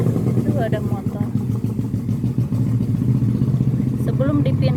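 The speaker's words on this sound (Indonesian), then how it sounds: "Sebelum itu ada motor" Motorcycle passing along a residential street beside a home garden, its mid-pitched engine puttering steadily and loudly throughout while a person talks over it.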